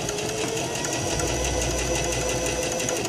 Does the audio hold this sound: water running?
no